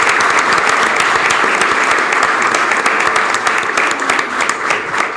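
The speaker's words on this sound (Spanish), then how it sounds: "aplauda al Señor" A church congregation applauds steadily and loudly, a dense, continuous wash of many hands clapping close by, with a few voices faintly mixed in throughout.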